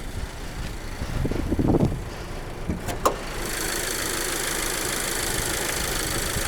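A 2021 Subaru Impreza Premium engine idles with a steady mid-pitched hum, a few clunks and a sharp click partway through before the idle settles into a constant drone.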